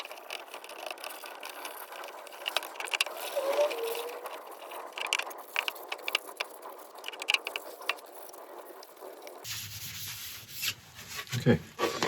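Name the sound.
rubbing a finish coat onto a walnut woodturning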